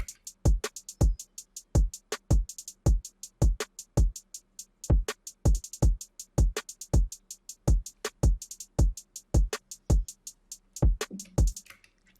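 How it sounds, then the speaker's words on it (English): A programmed beat made in FL Studio with punchy low hits and crisp hi-hats falling into quick triplet groupings, repeating steadily with no voices. "everything highlighted in red is a triplet hi-hat"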